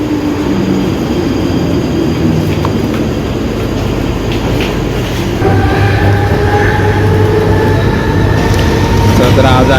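A Mumbai local train to Karjat stands at a busy station platform, heard as a loud rumbling hum with a rising electric whine, while crowd murmur and voices continue in the background.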